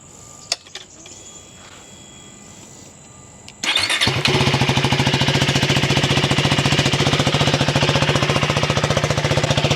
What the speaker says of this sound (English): Now let's give it another start up and let's see how it sounds.